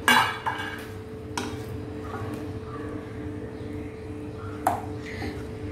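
Someone lifts the lid of a cooking pot to check raw bananas boiling inside, with a sharp metallic clank at the start, a few lighter clinks, and a low steady hum of the pot bubbling underneath.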